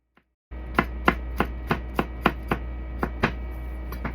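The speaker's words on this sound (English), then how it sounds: "we're gonna take one fairly sizable garlic clove, and we're gonna smush it to get the skin off of it really easily" A sizable garlic clove being smushed on a board to loosen its skin, with a series of about ten sharp, close knocks at steady intervals over a low constant hum.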